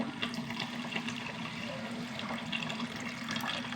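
Thin third-extract coconut milk from two coconuts is poured steadily into a pan of ghee-cooked sweet, giving a continuous close liquid rush with no speech.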